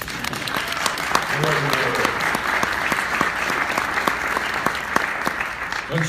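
Steady applause from a crowd, loud and continuous, with a few sharper claps standing out.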